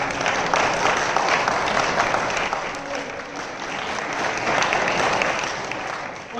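An audience at a workers' safety day event claps steadily in a dense, sustained round of applause lasting several seconds, with some voices mixed in among the crowd.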